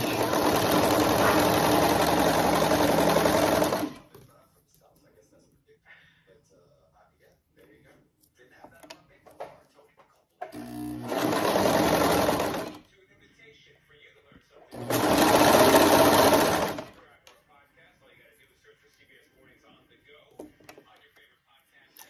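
A serger runs in three bursts stitching stretch fabric: a long stretch of rapid, steady machine stitching, then two shorter runs separated by near silence.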